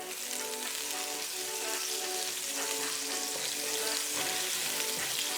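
Oil and butter sizzle in a pan while cooking red beef curry, a continuous bright crackling fry that stays steady and close with no voices.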